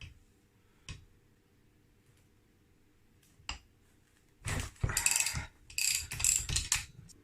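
On a Honda QR50 50cc engine, the flywheel nut is loosened with a wrench while a holding tool grips the flywheel: a few isolated clicks, then close, loud bursts of rapid ratcheting.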